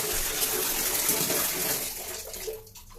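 Warm water pours steadily for bathing a cat, a continuous close splashing gush that tapers off toward the end.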